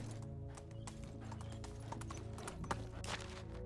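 Horse hooves clip-clop steadily while riding in Medieval Dynasty, a continuous rhythmic trot over a bed of game music, with a brief whinny-like accent near the end.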